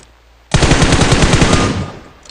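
A rapid automatic burst of gunfire in the PUBG Mobile video game, loud and close, a dense string of shots lasting under two seconds with no talking.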